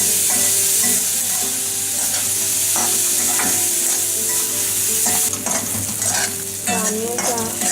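Onions browning in a pan give a loud, continuous sizzle while a spoon stirs and scrapes repeatedly through them, close by with no talk.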